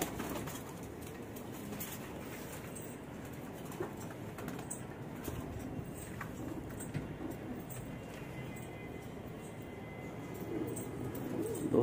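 Pigeons coo softly and steadily at a moderate distance, a low continuous murmur with faint bird calls and light rustling around them, no voices.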